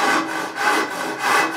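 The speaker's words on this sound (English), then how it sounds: "We are going to cut square from the bottom edge to the top edge" A hand saw cuts square through a plaster coving stop end, bottom edge to top, in three gentle, rhythmic rasping strokes, close up and steady with no talking.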